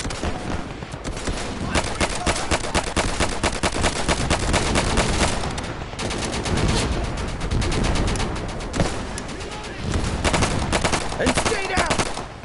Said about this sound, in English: Fuck! I'm taking fire!